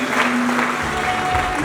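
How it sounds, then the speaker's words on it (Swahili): Steady clapping from a church or memorial gathering audience in appreciation of an evangelist, continuous and fairly loud over a short stretch, with a faint sustained tone underneath. "Appreciate mom kwa makofi"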